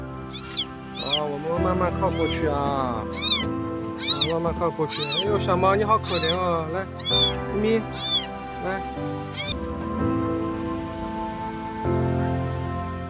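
A kitten meows over and over in rapid, insistent cries, loud and near, with a sustained musical backing underneath and a calmer tail end.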